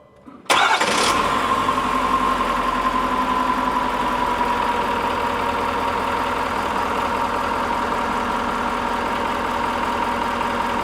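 A 2021 Ford F350 King Ranch pickup engine cranks and catches after a brief silence, then settles into a steady, loud idle with a low knocking rumble that continues unbroken to the end.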